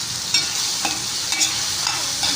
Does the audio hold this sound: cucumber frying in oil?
yes